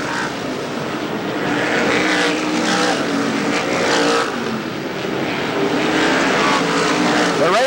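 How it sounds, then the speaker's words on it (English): CRA sprint cars roar around Ascot Park dirt oval in 1988, a dense, loud, continuous engine howl with passing surges, heard from trackside without talk. "The race is on the front straightaway with Sweeney the leader, Schumann running second"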